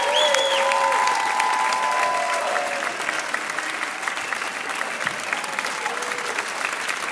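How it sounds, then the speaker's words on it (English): Concert audience applause at a tribute show in Toronto, a full crowd clapping steadily for several seconds, with whistles and cheers rising through the opening moments before the clapping carries on alone. "Big round of applause."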